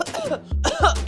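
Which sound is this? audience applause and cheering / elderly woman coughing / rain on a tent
elderly woman coughing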